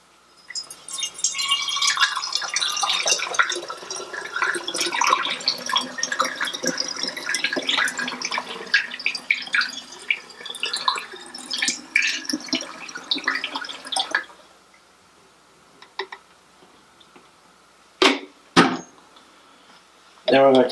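Unicolor C-41 film developing chemicals are poured into a container in a steady trickling stream for about fourteen seconds. The flow then stops, and a few short knocks and clinks follow.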